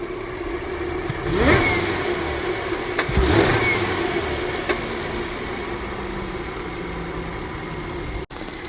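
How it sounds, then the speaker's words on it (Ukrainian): A 2014 Audi A6 engine idles steadily, then is revved twice in quick succession, each rev a sharp rise in pitch that falls back, heard up close with no talking. "ну ще разок і пусти газ."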